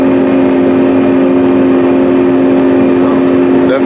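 A Case IH tractor engine drones steadily while pulling a 60-foot corn planter at about 7 mph, its cruise control holding near 1,580 RPM; a constant close hum runs alone throughout.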